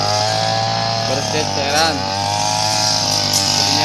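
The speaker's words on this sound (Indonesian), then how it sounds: "Ternyata susah memakai mesin rumput." Motorized grass and rice cutting machine, its small engine running loudly and steadily throughout with a slight rise and fall in pitch, while someone speaks briefly over it.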